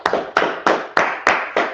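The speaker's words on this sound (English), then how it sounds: "clap it up" Six slow, evenly spaced claps ring out close and loud, each sharp hit trailing off into a room echo before the next.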